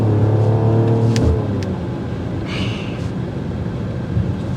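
Engine of a 2024 Mercedes-AMG GLE 53 Coupe with a gloss-black exhaust, loud and near, pulling hard as it accelerates, then easing into a steady lower road drone with faint tyre and wind noise.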